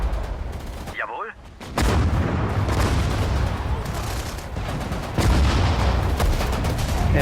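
Dense, continuous battlefield gunfire and heavy booms from a World War II strategy game, Sudden Strike 4, set in France, a loud rumbling roar of shots and explosions with a brief lull and a voice near the start.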